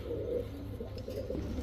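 Pigeons, high-flying Giribaz and racer birds, coo steadily close by in a low continuous murmur, no talk.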